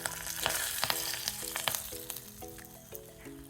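Hot oil sizzling steadily as spices crackle and pop in a tempering for idli, with a few sharp spattering bursts and faint utensil clinks; no voices.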